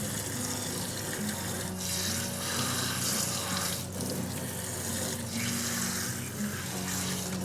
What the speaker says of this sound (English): We're then rinsing any of that excess shampoo out of the topper.